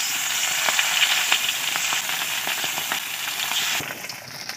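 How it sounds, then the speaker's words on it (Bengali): Bata fish frying in mustard oil in a pan, a steady loud sizzle with scattered crackling pops that eases slightly toward the end, with no voices. "এবার মাছগুলো ভেজে নিচ্ছি।"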